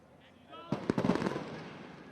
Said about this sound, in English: As you see right there, the fireworks going off.